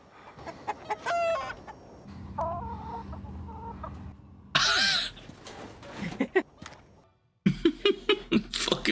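Chickens cluck and squawk up close, with one bird crowing, broken by short pauses and a final run of rapid clucks.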